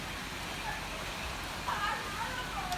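Steady rain pouring down on an outdoor site where a crew is setting up for a music rehearsal, a dense even hiss with a slight swell toward the end.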